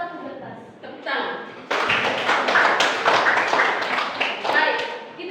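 Hands clapping in a classroom lesson, starting sparse and then swelling into a steady burst of many claps from a group, with voices mixed underneath.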